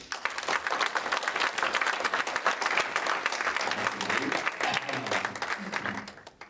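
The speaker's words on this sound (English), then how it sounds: "let's give him a big round of applause." Audience at an evening dinner event gives a big, steady round of applause that fills the whole stretch at even loudness before tapering off at the end.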